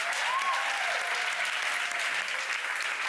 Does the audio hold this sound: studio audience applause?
yes